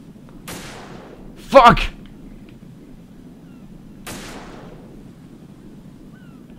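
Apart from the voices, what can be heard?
gunshots in the video game Metal Gear Solid 2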